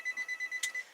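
A phone alarm beeps in a quick, steady pulsing pattern, five or six tones in one second, close and fairly quiet, with a brief click partway through.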